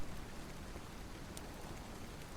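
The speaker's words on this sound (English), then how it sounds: "Just listen to the rain and the sound of my voice." Steady rain falls as a soft, even hiss that fills the whole stretch, gentle and continuous with no voices over it.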